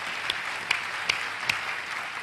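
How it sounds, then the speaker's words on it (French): An audience applauds warmly, an even wash of clapping with a few sharper individual claps popping out at intervals. "nous l'applaudissons très fort"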